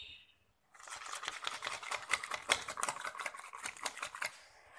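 Castor oil and egg oil hair mask being mixed in a small bowl, a brisk close rhythmic clicking and scraping that starts after a short pause and continues steadily, fairly quiet.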